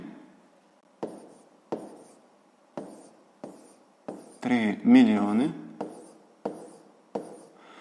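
Numbers are handwritten with pen on paper while working a sixth-grade maths exercise: a series of faint, close scratchy strokes roughly once a second, briefly interrupted by a short burst of quiet speech midway.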